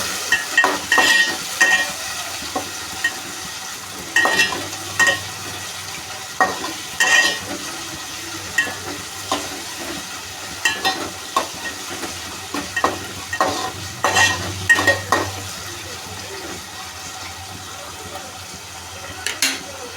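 Curry leaves and green chillies frying in a pan with tomato, a steady sizzle broken by repeated scraping stir strokes and clinks of a spoon, close and fairly loud throughout.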